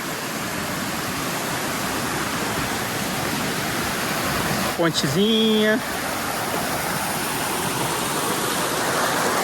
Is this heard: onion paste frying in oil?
no